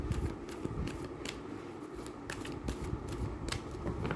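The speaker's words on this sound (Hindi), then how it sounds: "आपके लिए कास्ट शफल हो रही है" Cards being shuffled for a live angel card reading, a steady run of soft riffling and clicking over a constant background, close but fairly quiet, with no talking.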